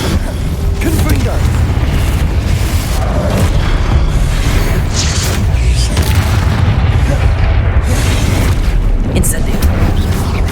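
Booming fire-spell explosions from the Hogwarts Legacy video game fill the scene, loud dense rumbling blasts with crackling bursts layered over continuous low roar, alongside a voice speaking.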